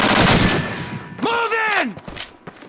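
Gunfire in the World War II shooter Call of Duty 2 on Xbox One, likely a mounted machine gun, with a loud burst of shots up front followed by quieter scattered game sounds and a voice.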